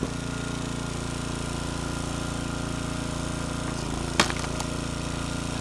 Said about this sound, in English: This old splitter ain't too slow.